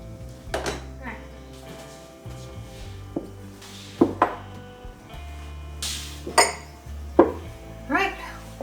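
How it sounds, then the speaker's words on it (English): Glass canning jars are lifted out of a dishwasher for canning butter. They clink and knock together in scattered bursts, along with clatter from dishes and racks, while a person speaks at times. "we're going to go get our jars out of the dishwasher"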